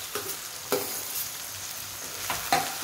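Carrots frying in a pan for vegetable pulao, with a steady close sizzle and a few sharp scraping strokes of a spoon stirring through the pieces, with no voices.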